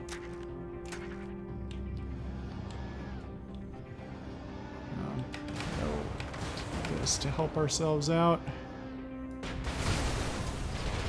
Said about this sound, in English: Big long explosion.